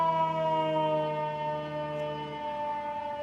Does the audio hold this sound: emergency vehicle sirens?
yes